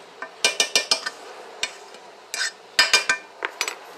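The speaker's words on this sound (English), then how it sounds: "Kind of stir that together with the butter already in there" A spoon clinks and scrapes against a pot while potato soup ingredients are stirred with butter, giving a quick irregular series of sharp metallic taps up close with short pauses between them.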